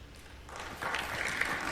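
Applause breaks out in a legislative chamber, rising after a brief quiet moment into a steady, fairly faint wash of clapping that lasts to the end.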